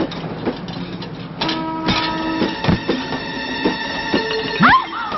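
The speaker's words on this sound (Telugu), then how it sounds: "రన్నింగ్ లో ట్రైన్ ఎక్కుతున్నావు" A running train heard up close, with steady rhythmic clatter and metallic clicks, sustained tonal hums and a brief squeal near the end.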